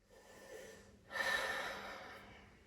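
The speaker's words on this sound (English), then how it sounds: "Maybe find your Ujjayi breath." Slow, audible yoga breath during a deep neck and shoulder stretch: a soft hushed inhale gives way to a fuller, louder airy exhale that swells and then slowly fades, heard close and alone.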